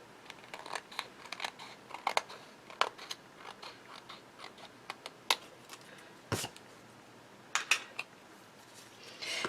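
Scissors snipping through a sheet of acetate while trimming a stencil card, with a series of short, crisp cuts and small crunching snaps spread unevenly through the stretch, close and fairly quiet.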